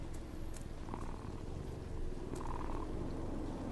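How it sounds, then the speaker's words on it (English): A cat being petted in a video game purrs steadily and softly for several seconds, a continuous low rumbling texture with no talk over it. "Clematis, pet the kitty"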